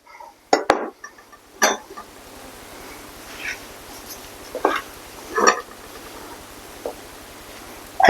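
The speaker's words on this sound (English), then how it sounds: "just put it in a 9x13 pan" Pulled pork is dropped and scraped into a 9x13 pan in a series of soft clinks and taps, a few sharp metal knocks spaced across the stretch over quiet background.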